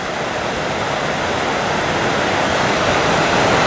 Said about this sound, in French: Petit plan sur la Clarée, quand elle n'est encore qu'un torrent